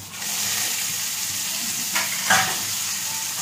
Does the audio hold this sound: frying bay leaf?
yes